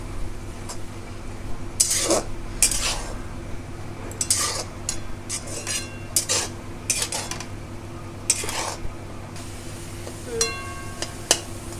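Raw green mango mixture with ground roasted spices being stirred in a pan as it thickens and clumps into a sweet-sour ladu paste, with repeated scraping and clinking strokes of a spoon against the metal, close and fairly quiet.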